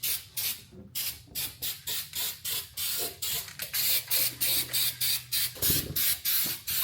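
Steel It coating sprayed onto the frame rails of a BMW E30 M3 in repeated short bursts, each a crisp, close hiss lasting about a third of a second, with brief gaps between them and a low steady hum underneath.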